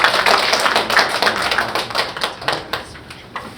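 Church congregation clapping in thanks at a pastor's installation service, a dense patter of many hands that thins into scattered claps toward the end.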